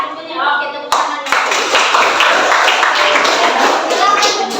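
A class of schoolchildren claps hands together in a classroom, a sudden burst of dense, sustained applause that starts after a brief pause and continues steadily to the end, with voices mixed in.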